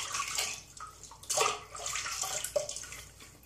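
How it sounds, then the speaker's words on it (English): Water splashes and drips from a sink as a face is wetted before a shave, a few irregular close splashes and running-water bursts, no talking. "I'm going to wet my face again and start up"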